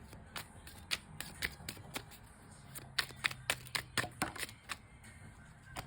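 A tarot deck is shuffled by hand in a quick run of sharp riffles and taps, close and quiet, with one card dropping out onto the deck and no voices over it.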